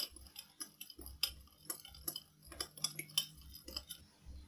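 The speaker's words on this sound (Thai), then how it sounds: "น้ำตาลเล็กน้อยน้ำมะนาวคนให้น้ำตาลละลายก่อนนะคะ" Spoon clinking softly against a glass or bowl while sugar and lime juice are stirred together, with quick, light, irregular taps close by and no talking.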